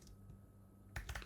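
Computer keyboard typing while setting up a web app form, a short burst of quick keystrokes near the end after a quiet, faintly humming stretch.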